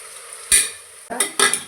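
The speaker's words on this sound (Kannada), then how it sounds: "ಇವಾಗ ಟೊಮೆಟೊ ಹಾಕ್ತಾ ಇದ್ದೀನಿ" Tomatoes frying in a hot pan, a steady sizzle broken by a few scraping stirs of a spoon against the metal, close and clear with no voices.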